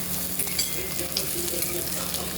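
Onion fries in a pan of oil with curry leaves, a steady close sizzle and crackle with soft stirring scrapes.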